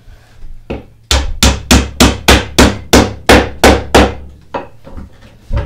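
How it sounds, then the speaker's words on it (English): A hammer pounding a glued dowel into a wooden joint strikes a few scattered blows, then about ten sharp, loud, evenly spaced whacks in quick succession, close up and ringing briefly, with no talking. "And then pound that down in there."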